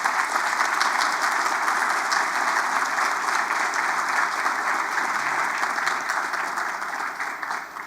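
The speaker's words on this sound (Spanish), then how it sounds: "yo les pediría un aplauso para el doctor José Alejo Cortés" A large audience applauds a doctor, José Alejo Cortés, at an institutional summit, with dense, steady clapping that stays loud and continuous for the whole stretch, easing only slightly at the end.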